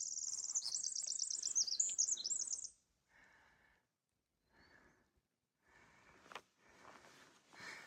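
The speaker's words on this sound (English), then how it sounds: "I want you to hear the bird." A small bird calls from thick trees right beside a forest trail, opening with a bright, rapid run of high chirps, then a few short quieter call notes separated by pauses, ending with another sharp chirp and soft rustling.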